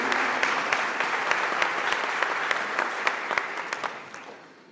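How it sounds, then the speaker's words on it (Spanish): Audience at a regional service-station industry forum in Latin America applauds with steady, crisp clapping that holds for about four seconds, then fades out. "les pido un aplauso de que Colombia nuevamente va a participar de CLAEC"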